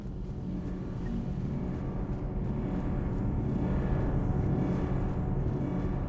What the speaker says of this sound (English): Always the engine room is loud.